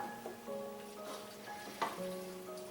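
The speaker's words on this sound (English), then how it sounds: "just going to stir it around" Ham fettuccine sauce with milk being stirred in a pan, a soft continuous scraping and swishing with a faint sizzle underneath, close and quiet, with no talking.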